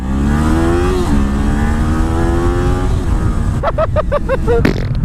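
A 2019 Kawasaki Z400 motorcycle engine pulling in top gear during a ride, a loud droning rise in pitch under wind rush, then a burst of rapid revs and shifts near the end.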